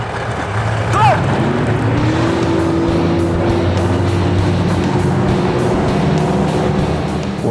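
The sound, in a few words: bass fishing boat engines at tournament blastoff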